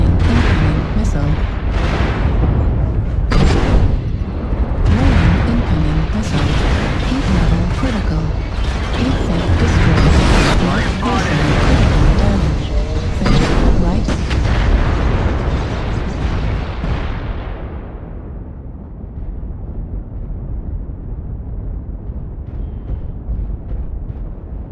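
Missile launches and explosions rumble through mech combat in MechWarrior, with a Cataphract 2X missile carrier brawling; dense repeated blasts and bursts dominate for most of the stretch before fading into a lower background roar, with a synthetic voice announcing warnings.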